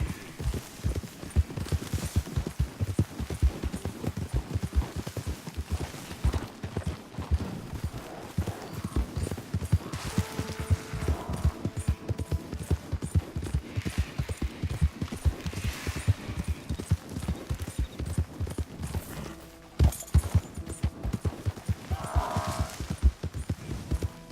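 Horse hooves clip-clop steadily at a trot across the ground in Red Dead Redemption 2, a close, rhythmic stream of hoofbeats that runs nearly unbroken, with a brief pause near the end before resuming.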